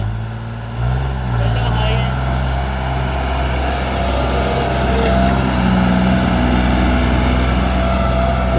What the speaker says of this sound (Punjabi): ਬੜਾ ਜ਼ੋਰ ਦਿਖਾਉਂਦਾ ਟਰੈਕਟਰ